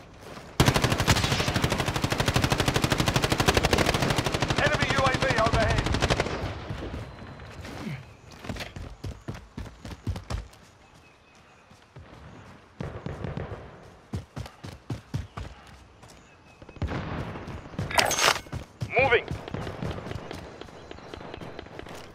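Heavy gunfire from Call of Duty Warzone on PS4, with M91 and MP7 weapons. A dense, loud burst of automatic fire opens the clip, then breaks into scattered rapid shots and quieter intermittent bursts mixed with movement sounds.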